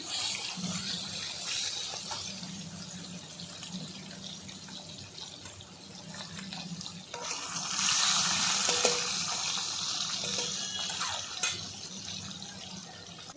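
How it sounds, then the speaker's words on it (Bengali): Whole fresh foloi fish rubbed with salt and turmeric fry in oil, a steady, even hissing sizzle that swells louder midway, close by, with no voices. "এক এক করে মাছগুলো সব ভেজে নেবো"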